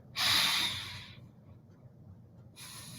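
A person breathes in sharply through the nose, a close, hissy inhale lasting about a second, followed by quiet and then the start of another nasal breath.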